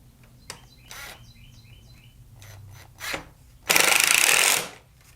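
An impact driver drives screws into a DIY compost bin, with a few short clattering bursts and then one loud, sustained hammering whir lasting about a second, close by.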